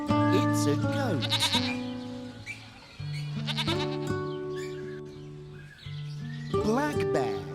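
A goat bleats several times in drawn-out, wavering calls, loud and close, separated by short pauses with some higher chirping between them.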